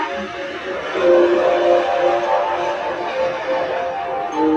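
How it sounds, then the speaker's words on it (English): A train in the video game Final Fantasy VII rumbles steadily with a tonal, whistle-like hum over a continuous rolling noise, moderately loud and with no talking. "I'm jumping on the train."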